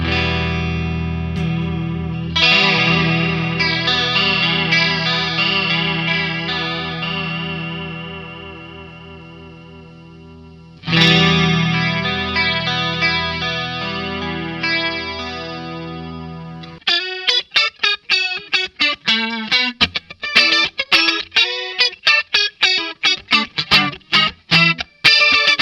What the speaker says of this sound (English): It's a lovely sounding chorus pedal.